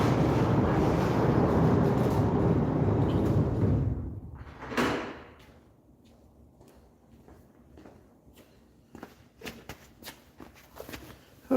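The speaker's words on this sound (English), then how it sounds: "I'm going to go open the door for better service." A door is opened on a rainy day, letting in a broad steady rush of rain that fades out as it swings, followed by scattered light clicks, thumps and footsteps nearby.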